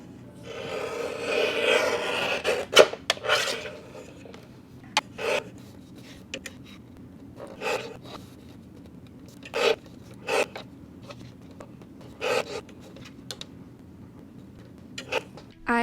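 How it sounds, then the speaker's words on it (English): A paper cutter slicing sheets of paper for a bullet journal setup, with a longer rasping slide at first, then a series of short, close, dry scraping strokes spaced out with quiet gaps. "I'm using my paper cutter in the next step, so here's some paper cutting ASMR for you."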